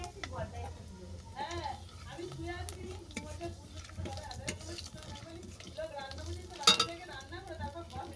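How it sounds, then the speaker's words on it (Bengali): Black cumin seeds crackle and sizzle in oil left over from frying bata fish, with a spoon stirring and scraping the pan and a voice talking over the cooking. "মাছের তেলের মধ্যে আমি কালো জিরে ফোড়ন দেবো।"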